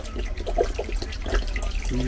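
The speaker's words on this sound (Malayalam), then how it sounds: "ഒരു ലിറ്റർ വെള്ളം ഒന്ന് ലിറ്റർ ഒഴിക്കാം" Water poured out for a chicken dish, a steady splashing and gurgling stream into a pot, close and continuous, with faint voices around it.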